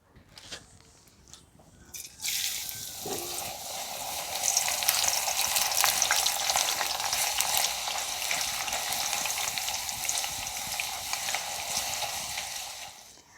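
Potato slices for chips drop into hot oil and set off a sudden loud deep-fry sizzle that stays steady and dense, after a few quiet handling sounds.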